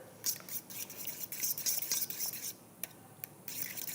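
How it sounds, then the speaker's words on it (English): Four eggs are stirred with a fork for banana pancake batter, a quick scraping, wet swishing rhythm against a bowl with brief tapping clinks and a short pause partway through. "Once you've added your 4 eggs, you're going to want to give it a good stir."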